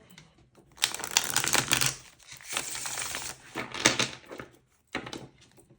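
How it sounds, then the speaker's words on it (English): Close, crisp riffling and tapping of a tarot card deck being shuffled, in quick papery bursts with short pauses between them. "Anyway, I'm supposed to shuffle."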